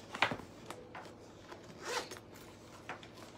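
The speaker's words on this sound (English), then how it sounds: "It does have a zipper in the front." A zipper on a Louis Vuitton backpack is pulled in a few quick, close rasping strokes, with short pauses between the pulls.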